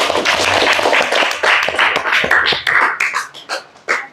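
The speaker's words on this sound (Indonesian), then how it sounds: "Tepuk tangan buat Bagas." Schoolchildren in a classroom clap for a classmate in loud, uneven bursts, with a few sharp individual claps standing out near the end.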